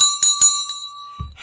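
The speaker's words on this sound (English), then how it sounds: "I missed the bell." Stock market closing bell, three or four quick bright metallic rings with a sustained ringing tone that decays over about a second, loud and close with no talk.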